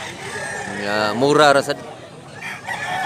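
A rooster crows once loudly at a rooster farm in Mantalungon, Cebu, amid other fowl, while someone talks over and around the call.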